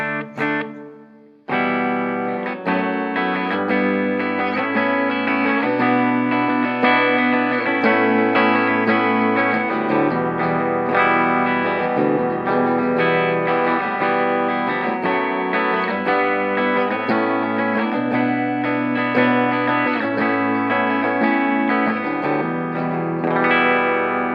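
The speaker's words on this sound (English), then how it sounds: "Try it with a bit of reverb." An electric guitar plays through an Orange Micro Terror MT20 amp with reverb added, strummed distorted chords ringing continuously after a brief quiet start, sustained and loud with a washy tail.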